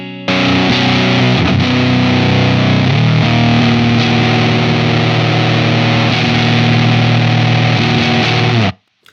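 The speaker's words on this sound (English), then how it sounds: "I'm gonna go ahead and set a pretty high gain setting on the distortion side." A guitar plays through an Old Blood Noise Endeavors Excess V2 pedal set to high-gain distortion, giving a loud, thick, saturated chord that is struck and held, restruck around three seconds, then sustained until an abrupt stop.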